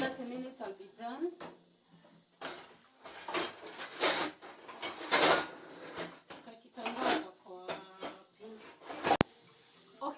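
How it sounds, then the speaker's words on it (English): Kitchen utensils and dishes being washed one by one, with scattered clinks, scrapes and running-water rushes, heard under and between a woman's speech. "So we'll be washing the utensils one by one."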